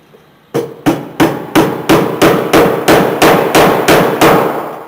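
A hammer drives a staple over electrical wire at a wall stud while a single-pole switch is wired; about a dozen sharp, evenly spaced metallic strikes, loud and close, with no talk.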